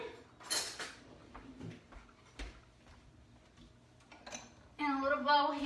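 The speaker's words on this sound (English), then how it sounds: "I'm going to grab a little spoon" Small metal spoon and bowl handled in a home kitchen while making cornbread dressing: scattered light clinks and taps, then a louder, bright ringing clatter of tableware near the end, close by and fairly quiet overall.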